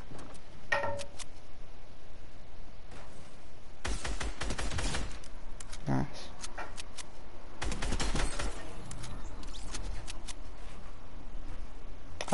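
Shotgun fire in a video game comes as sharp, crackling shots in short clusters and single bangs over a steady background rush.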